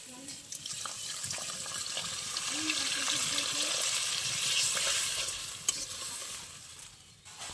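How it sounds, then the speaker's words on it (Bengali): Water poured into a pan of fried mustard-paste spices for a chanda fish curry, a steady hissing sizzle and bubbling that rises and holds, with faint clinks, alone. "এবার আমি জল দিয়ে দেবো"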